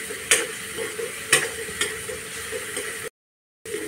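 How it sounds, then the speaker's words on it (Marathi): Dried bay prawns frying in oil in a pan, a steady close sizzle with occasional stirring scrapes, no voices. "सुकटच छान सुगंध येईपर्यंत मी तेलात आता सुकट भाजून घेणार आहे।"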